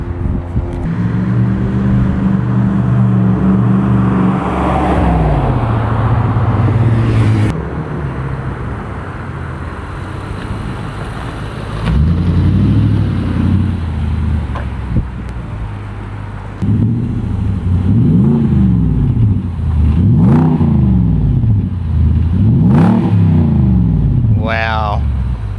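A Nissan Y62 Patrol with a Promax exhaust revs and idles nearby, then passes with repeated rising and falling revs, loud and throaty, with brief talk mixed in.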